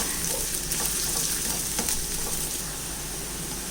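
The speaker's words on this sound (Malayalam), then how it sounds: "ഇനി ഇതിലേക്ക് നമുക്ക് ഒരു 1/2 സവാള അരിഞ്ഞത് ഇട്ട് കൊടുക്കാം. ഇതെല്ലാം നമുക്കൊന്ന് വഴറ്റിയെടുക്കാം." Chopped onion, garlic and ginger sautéing in a pan for a Kerala fish curry, a continuous close hiss of frying with faint scraping stirs, steady throughout and with no talking.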